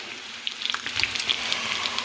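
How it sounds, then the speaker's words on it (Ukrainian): Small crucian carp sizzle and crackle in hot oil in a pan, a steady quiet frying hiss dotted with tiny pops and spatters, heard close with no talking. "Картопляне пюре вариться і смажу каросики."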